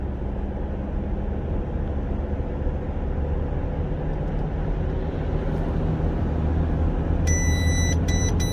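Steady road and engine rumble from inside a moving vehicle, then a rapid series of sharp electronic warning beeps repeating near the end.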